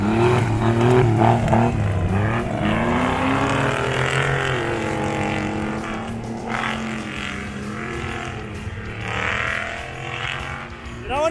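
A V8 4x4 race car roars past on a dirt track at a Costa Rican 4x4 championship heat, its loud engine note climbing and falling as it goes by, with another engine following and an announcer talking over it.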